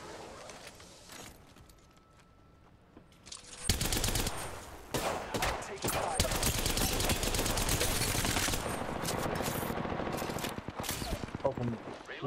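Apex Legends firefight: after a quieter stretch, loud sustained automatic gunfire bursts in and keeps going with dense, rattling volleys and brief gaps, close and intense.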